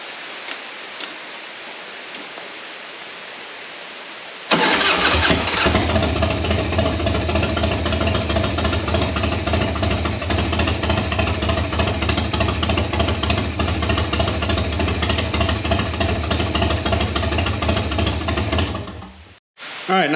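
A cheap secondhand Harley-Davidson Dyna motorcycle, with starter fluid in the carburetor, sits quiet, then catches and roars into a loud, steady, close running engine for about fifteen seconds before cutting out and briefly firing again.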